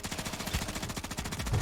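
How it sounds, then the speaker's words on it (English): A Bruen MK9 SMG fires in Warzone, a rapid, evenly spaced burst of close, punchy automatic gunshots running throughout. "Next up, we have a loadout that I've not seen anyone else talk about yet. This is the Bruen MK9 SMG."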